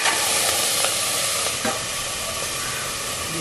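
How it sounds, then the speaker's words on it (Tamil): Nattu kozhi (country chicken) pieces coated in turmeric going into a hot cooker, giving a loud, steady hiss and sizzle with faint stirring clinks, close up and without talk. "இப்ப அந்த சிக்கனை வந்து நம்ம முதல்ல வந்து குக்கர் வச்சுட்டு அதுல சேர்த்தலாம்."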